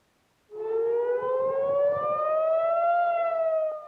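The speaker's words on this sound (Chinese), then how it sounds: "以色列首都耶路撒冷空袭警报又搁咧弹" An air raid siren sounds in Jerusalem, starting abruptly and holding a long, steady rising wail that carries clearly with nothing else heard.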